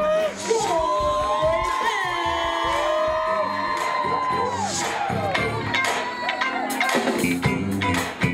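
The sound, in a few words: audience clapping and cheering at a red carpet event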